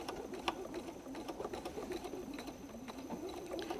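Sewing machine stitching straight through fabric-covered clothesline rope basket layers and handles, a quiet fast mechanical whirr with rapid needle ticks, heard close with no talking.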